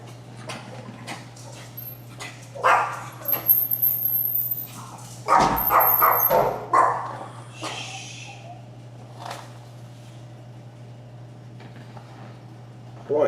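A pet dog barks in irregular bursts nearby, with loud clustered barks, yips and a few whimpers over a steady low hum, then fading to quieter single barks.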